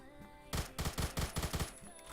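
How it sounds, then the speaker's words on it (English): M60 machine gun firing in Phantom Forces, a burst of about eight heavy rapid shots that starts abruptly after a quiet moment, sounding fairly distant and muffled. "Heard an M60 shooting at me."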